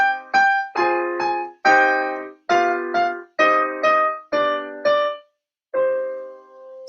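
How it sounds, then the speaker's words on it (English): A piano plays Twinkle Twinkle Little Star in a minor key: clear, evenly paced chord strikes, mostly in pairs, then a brief pause and a final held chord, close-miked with no talking. "If I were to take that same song and change it into a minor key"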